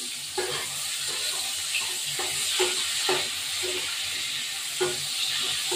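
Tomato and onion frying in a pan, a steady hiss of sizzling oil broken by intermittent scraping strokes of a spatula, close and without talk.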